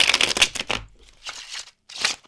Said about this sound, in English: when I re-listen to my read and I hear the card shuffle